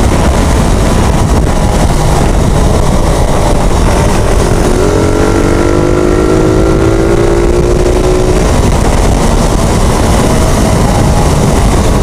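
A motorcycle riding on a road toward Banyaga, Agoncillo near Taal Volcano, its engine droning steadily under heavy wind rush at the microphone, with a faint rising engine tone partway through.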